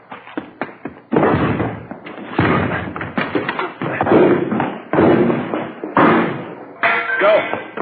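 Police officers batter and break in a house door in an old radio drama: a run of heavy, close thuds and crashing blows in irregular bursts, with clattering debris between impacts.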